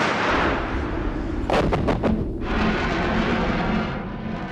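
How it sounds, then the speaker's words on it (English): A Starstreak missile fires from its launch unit with a loud roaring blast and a quick rattle of sharp cracks, followed by a sustained rumbling rush that fades out, heard close with no voices. "The safety and trigger and press to fire the missile."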